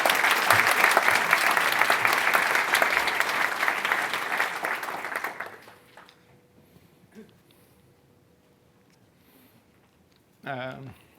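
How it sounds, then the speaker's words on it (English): Loud, dense applause from a large audience for about five seconds, then it fades to near silence with a brief faint sound near the end. "I think a round of applause first"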